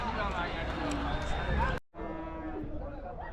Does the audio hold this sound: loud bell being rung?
no